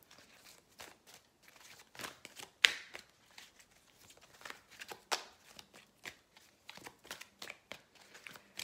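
Tarot cards being shuffled in soft, crackly riffles and flicks, close and fairly quiet, with one sharper snap near the middle and no voices.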